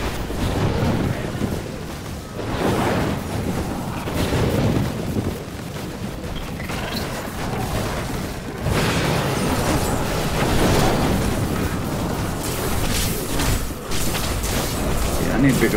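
Repeated booming explosions from the Nova Blast skill in Diablo 3 Ultimate Evil Edition on PS4 Pro, continuous heavy rumbling bursts layered with game effects, loud and close.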